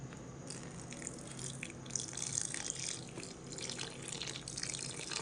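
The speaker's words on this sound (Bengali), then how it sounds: "তো বন্ধুরা আমি এখানে জল নিয়ে নিয়েছি তো জল আমি দিয়ে দেবো" Water poured onto jaggery in a bowl while making patisapta batter, a steady trickling splash with soft drips throughout, fairly quiet and close.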